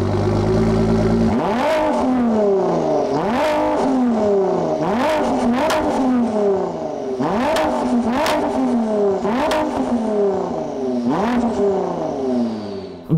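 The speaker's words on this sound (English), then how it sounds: "In fact, it doesn't really sound like a V6," Ford GT EcoBoost V6 engine revving up repeatedly, each rise climbing sharply then dropping, about seven rev sweeps in a steady loud rhythm with an angry, snarling tone and no talk.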